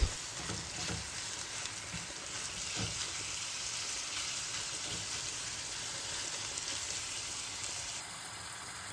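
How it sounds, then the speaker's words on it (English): Ground beef frying in a pan over medium heat, a steady soft sizzle and crackle with a few faint stirring scrapes, quiet and continuous throughout. "Now drop in your ground beef and turn the heat down to medium. Let it cook a bit."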